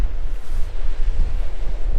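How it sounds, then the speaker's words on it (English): Strong wind buffets the microphone on a seaside dune at Winterton with a constant rumbling roar, a hint of surf beneath it, and no voices. "It's a little bit windy."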